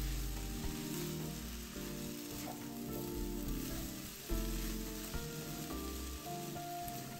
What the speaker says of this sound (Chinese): 然后加入100毫升浸泡过虾米的水，继续炒香